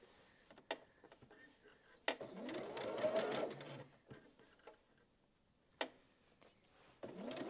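A sewing machine stitches white squares onto a baby quilt in short, separate bursts with pauses between them. Light clicks and handling noises fill the gaps.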